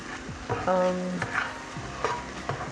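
Eggs being scrambled in a frying pan, with close scraping and stirring strokes over a light sizzle, a few distinct spatula scrapes spread through the stretch.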